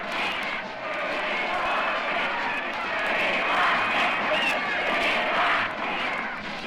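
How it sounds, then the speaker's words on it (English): A crowd of partisans cheers the arrival of Richard and Pat Nixon in Chicago on the opening morning of the 1960 convention, a steady loud roar of mixed voices and shouts with no clear break. "are met by cheering partisans"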